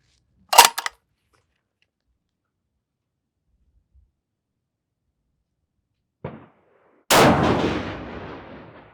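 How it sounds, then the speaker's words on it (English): A 7mm PRC rifle on a Defiance Anti-X long action fires at an outdoor range, two sharp cracks separated by quiet, the second followed by a booming, decaying report, with a faint click between. "Let's shoot one more, just have 3 shots on that with this last setting"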